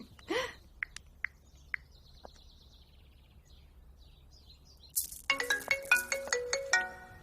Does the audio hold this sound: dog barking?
no